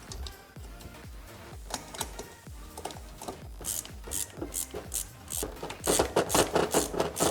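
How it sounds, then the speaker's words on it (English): A Klein ratcheting screwdriver tightens screws on a junction box cover plate for garage shop lights, making rapid repeated ratchet clicks in quick bursts that grow louder and sharper toward the end, close up with no talking. "This is one of my Klein tool ratcheting screwdrivers."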